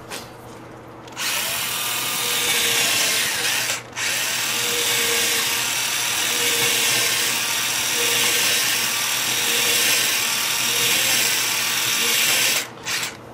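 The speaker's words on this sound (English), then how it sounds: "I'm going to drill a series of holes in this area so the epoxy can penetrate in, but I'm not going to drill all the way through." Power drill boring a series of holes partway into a plywood boat transom, a steady high whine running for several seconds, stopping briefly, then continuing before a final pause, close and loud with no talking.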